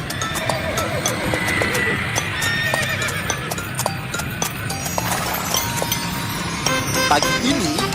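A horse pulls a delman carriage with steady clip-clop hoofbeats throughout, close and clear, with a whinny breaking through over the rhythmic trotting.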